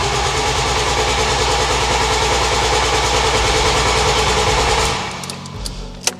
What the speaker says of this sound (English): It cranks. I heard a fire. I think we just need some throttle.